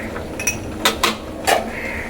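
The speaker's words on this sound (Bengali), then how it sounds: "সব একবার ভালো করে মিশিয়ে নেব।" A spoon stirring chutney with cashews and raisins in a pan, a few distinct clinks and scrapes of metal on the pan spaced irregularly, close and clear.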